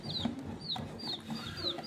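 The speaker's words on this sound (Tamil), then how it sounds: "நீ கேட்ட கோழி குஞ்சு வந்துருச்சு போலடி." Small dyed baby chicks give high, thin, downward-sliding peeps, about four in quick succession, close by over a low background hum.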